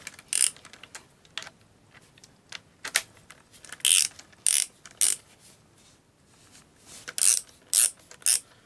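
A Milwaukee M18 cordless ratchet driving a socket spins in short separate bursts, each a loud rapid whirring clatter lasting about half a second, with quiet gaps between them and no talk.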